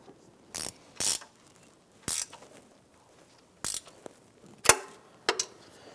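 A ratchet snugs exhaust manifold bolts on a Jeep Wrangler, giving short separate bursts of quick clicking, about seven in all, spaced irregularly with quiet gaps between them.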